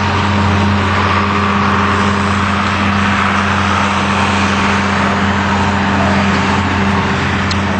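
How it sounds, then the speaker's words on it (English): A tractor hauling cow manure along a country road, a constant loud engine drone with steady low rumble and hum, unchanging throughout, with no voices present. "I'm not going to cut out that noise of that tractor out here in the country"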